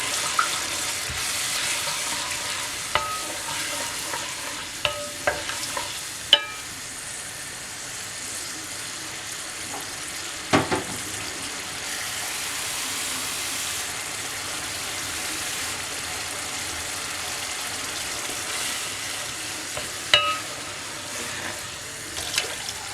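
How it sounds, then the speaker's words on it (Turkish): Water running and splashing steadily from a tap, with a few brief knocks and clinks, while onion, barley and vermicelli soup is prepared in a pot; no talk. "Şimdi yeterli miktarda suyumu ilave ettikten sonrasında arpa şehriyara pişene kadar ara ara karıştırarak pişirmesini bekliyorum"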